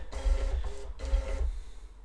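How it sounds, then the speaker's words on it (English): A Zebra label printer, driven by a ZKDU keyboard display unit, prints off saved labels in two loud, close bursts of steady mechanical whirring with a brief pause between them. "F2 lists all the labels that have been saved to the connected printer by printing off the labels"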